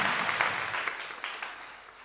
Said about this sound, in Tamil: அரங்கு நிறைந்த கரகோஷத்தின் மத்தியில் மேடைக்கு வருகின்றார்